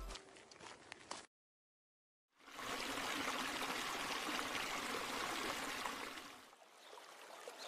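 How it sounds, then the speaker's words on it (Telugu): The Polluru waterfall near Mothugudem pours in a loud, steady rush of broadband roar, after a shorter stretch of gentler flowing water and a moment of total silence, with no voices. "పొల్లూరు వాటర్ ఫాల్కి వచ్చాము. వాటర్ ఫ్లో బాగుంది"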